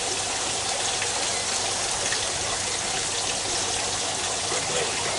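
Water runs steadily into an aquaponics setup in a greenhouse, a continuous broad splashing rush that fills the whole stretch at even loudness, with no speech over it.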